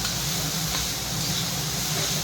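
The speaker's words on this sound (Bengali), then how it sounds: "কড়াইয়ের মধ্যে দিয়ে দিলাম গাজরটা, দিয়ে একটু নাড়াচাড়া করে ভেজে নেব।" Carrots frying in hot oil in a wok give a steady, even hiss of sizzling that holds at a constant level with no breaks throughout.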